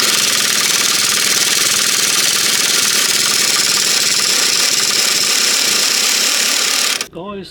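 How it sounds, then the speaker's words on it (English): An angle grinder with a special cutting blade cuts off an anti-roll bar link on a 2012 Nissan Navara, a loud, steady, harsh whine with rough grating that stops abruptly near the end. "Grinder, special cutting blade."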